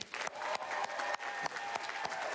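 Crowd applause for a marching band at a first-day-of-school event, sustained clapping with some scattered louder claps, moderately distant.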